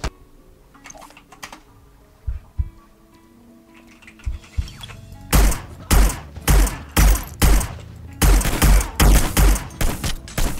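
Gunfire erupts while targets are eliminated in Hitman Blood Money, starting with faint scattered clicks and distant shots, then turning into a loud, rapid series of heavy booming shots in close rhythmic bursts.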